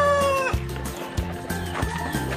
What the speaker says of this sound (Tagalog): mga almost 50 na babae na Rhode Island Red na mangingitlog dito soon